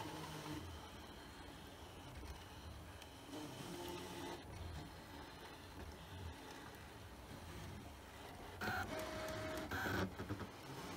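A Brother ScanNCut SDX125e cutting machine working through heat transfer vinyl, a steady, quiet, printer-like motor whir with faint carriage movement and a few brief beeps near the end, with no talking.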